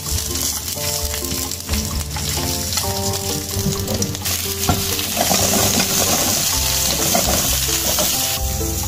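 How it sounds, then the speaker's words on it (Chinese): Bones frying in hot oil in a large pot, a loud, close, continuous sizzle with repeated stirring clatter and scraping against the pot. "油一煎就香了"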